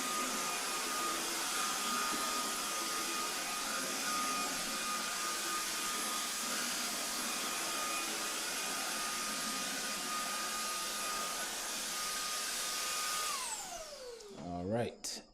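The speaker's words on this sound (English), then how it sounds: "let me vacuum some of this hair out of here" A vacuum cleaner sucks up loose hair during a bathroom trim installation, a steady loud whine running continuously for about thirteen seconds before it powers down with a falling pitch and a few brief knocks.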